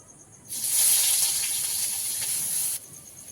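Chopped onion hits hot mustard oil in a heated pan, setting off a loud, sudden sizzling hiss that holds steady for about two seconds and then cuts off abruptly, heard up close and alone.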